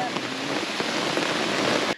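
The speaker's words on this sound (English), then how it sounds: "this is a terrible place to be in the rain" Rain pours steadily onto a slippery, rocky hiking trail among beech trees on the Appalachian Trail, a dense close hiss with scattered drop impacts throughout before stopping abruptly.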